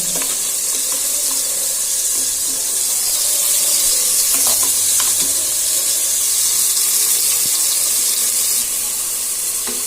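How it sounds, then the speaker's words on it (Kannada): Ground spice paste for Vangi Bath sizzles and fries loudly in hot oil, a steady close hiss with occasional soft scrapes of stirring throughout. "ರುಬ್ಬಿರುವ ಮಿಶ್ರಣವನ್ನು 2 ನಿಮಿಷ ಎಣ್ಣೆಯಲ್ಲಿ ಚೆನ್ನಾಗಿ ಫ್ರೈ ಮಾಡೋಣ."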